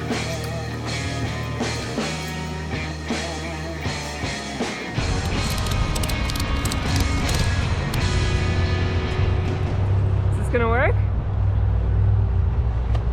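A pickup truck loaded with foam sheets in its bed drives slowly up a highway, a steady loud road and engine rumble filling the whole clip, while people talk over it inside the cab.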